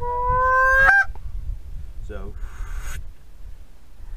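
A blown goose call lets out a loud, rising honk that ends in a short break, followed a second later by a shorter clucking squawk. A brief spoken word comes in between, over faint room noise.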